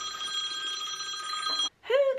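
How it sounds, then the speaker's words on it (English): A telephone bell rings steadily for an incoming call, breaks off briefly, then a short burst of ringing resumes, close and fairly loud. "Who gets these annoying phone calls?"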